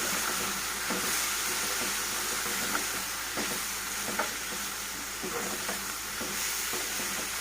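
Broad bean fry being stirred in a hot pan after chili powder goes in: a constant dense sizzle with regular scraping and clinking strokes of the spoon throughout.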